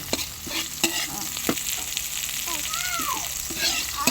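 Mung beans fry in cooking oil with a steady sizzle, broken up by sharp clinks and scrapes of stirring that sit close and clear.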